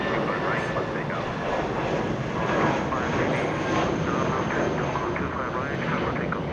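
Airliner taking off from runway 25 right at Los Angeles International Airport, a steady, loud broadband engine roar that holds throughout, with voices talking over it.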